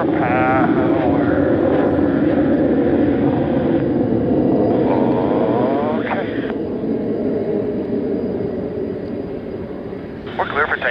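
Blue Angels jets run their engines up with afterburners for takeoff during winter training, producing a loud, continuous roar with shifting whining tones, heard close and steady throughout under radio chatter.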